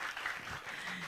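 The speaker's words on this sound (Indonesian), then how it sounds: "kita berikan aplaus dong untuk Intan" An audience at a semifinal Ramadan preaching competition for school students claps for a contestant, giving a short, steady burst of applause that sounds somewhat distant and soft.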